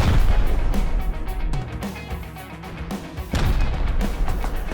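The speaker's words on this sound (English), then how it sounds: "the rockets are still going off" Rockets explode during a raid in the video game Rust, with a series of heavy booming blasts at irregular intervals and a brief lull between them. Rumbling debris and gunfire-like cracks fill the gaps.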